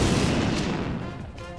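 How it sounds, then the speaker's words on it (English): In a visual novel game, soldiers slam into a stone wall with a loud, deep thud that rumbles and decays as the wall crumbles, one heavy impact fading over a second and a half. "The soldiers hit a stone wall with a deafening thud, and the wall crumbles with the impact."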